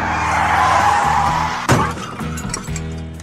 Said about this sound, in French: Tanguy percute violemment la voiture et meurt brutalement 20 mètres plus loin